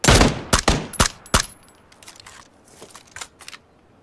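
Gunfire rings out in a squad-based shooter video game: a rapid burst of loud, sharp shots at the start, then scattered fainter cracks trailing off, with no talk over them.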